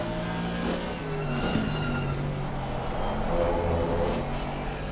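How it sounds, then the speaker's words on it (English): An Aston Martin race car engine in a racing game rumbles and drones continuously at close range during an endurance race at Misano, its pitch wavering slightly as it runs, with no talking. "Aston Martin just rumbles and grumbles along."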